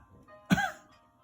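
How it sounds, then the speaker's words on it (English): One short, sharp cough sounds close by, a single burst that trails off quickly into quiet, with no talking around it. "I want you to try and cough."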